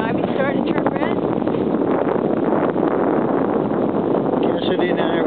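Strong north wind blowing across an open hilltop, a steady loud broadband roar buffeting the microphone for the whole stretch, with faint voices buried beneath it.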